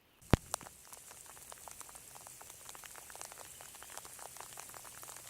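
Light drizzle at Gentry Creek campground pond in Oklahoma patters steadily in dense, close droplets, with a couple of sharper drips near the start.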